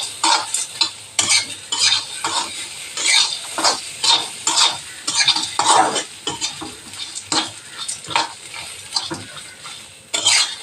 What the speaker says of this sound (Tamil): 3 பச்சை மிளகா போட்டுடலாம். அதையும் போட்டு இதில் வறுத்துடலாம். கொஞ்சம் தேங்காய் குண்டு பண்ணி வச்சுருக்கேன், தேங்காய் அதில் போட்டுடலாம்.